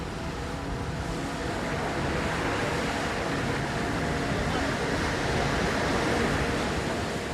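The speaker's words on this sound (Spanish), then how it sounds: "El fuerte oleaje dificulta la navegación." Strong ocean waves near the Chilean coast at sea give a constant loud broadband rush of surf and wind around a boat, steady and unbroken with no talking.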